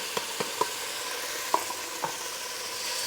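Onion and hot pepper sizzle in mustard oil in a hot medium-sized pot, a steady close frying hiss with a few sharp pops and stirring knocks.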